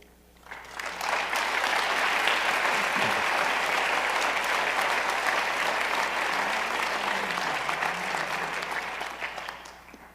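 An audience applauds at a Shabbat of Peace gathering featuring Shaykh Abdullah bin Bayyah, with music: sustained, loud, even clapping from a large crowd that swells in quickly and tapers off at the end.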